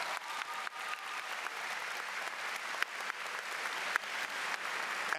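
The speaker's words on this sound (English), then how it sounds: "Can you give them a round of applause, please?" Steady applause from a high school graduation audience in a building, dense clapping that holds at an even level for several seconds, fairly distant with no voices over it.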